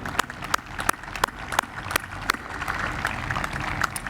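Audience applause at a medical school white coat ceremony, a steady crowd of clapping hands with sharper individual claps standing out, continuous and moderately loud throughout with no talk.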